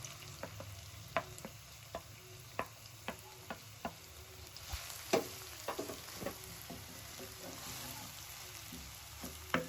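Onions fry in hot oil over a low to medium flame, producing a faint, soft sizzle broken by a series of sharp spoon clicks and taps against the pan.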